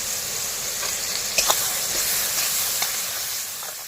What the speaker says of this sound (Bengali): পেঁয়াজটা খুব সুন্দর করে ভাজা হয়ে যাক আর পেঁয়াজের মধ্যে একটু লবণ দিয়ে দিচ্ছি